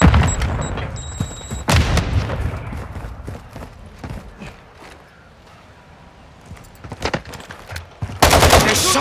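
Heavy gunfire from Call of Duty: Modern Warfare 2 Kill Confirmed play with the Icarus 556 LMG on the Ta'rq map: loud bursts open the scene, scattered shots follow, and a dense burst returns near the end.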